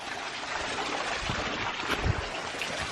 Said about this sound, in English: The waterfalls, still bigger than any others saw earlier.